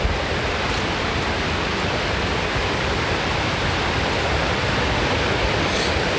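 River roaring below near Multnomah Falls, Oregon, on a foggy day: a dense, steady broadband rush of falling water, loud and unbroken, with no voices.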